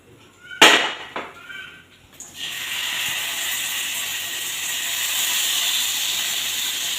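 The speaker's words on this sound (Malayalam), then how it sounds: "മീനൊന്ന് പൊരിച്ചെടുക്കട്ടെ" Fish sizzles in hot oil in a pan after a couple of sharp clatters, then settles into a steady, loud, hissing fry that continues without pause to the end.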